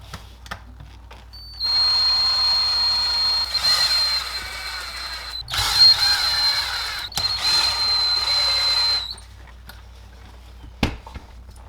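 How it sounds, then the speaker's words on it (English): Screws are driven and tightened while a Traxxas Maxx WideMaxx RC truck kit is assembled, giving bursts of whirring, ratcheting mechanical sound with short pauses between them, close and fairly loud, with no talking. "tighten up our screws"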